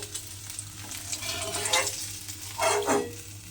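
Parshe fish sizzles steadily in hot oil, a constant crackling hiss with a couple of louder spitting bursts and a low background hum.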